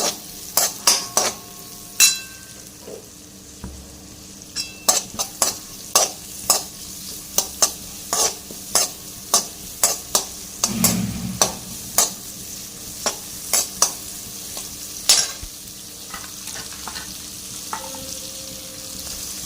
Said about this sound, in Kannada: ಇದರಲ್ಲಿ ಕ್ಯಾಪ್ಸಿಕಮ್ ಫ್ರೈ ಮಾಡ್ತಾ ಇದ್ದೇನೆ.